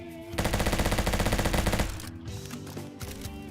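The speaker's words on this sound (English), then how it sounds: "I want to take a look at the M4's hipfire accuracy first" Rapid automatic M4 hipfire bursts in the Roblox shooter Bad Business, loud and close, a dense rattling stream of shots lasting under two seconds, then quieter clicks and clatter of handling.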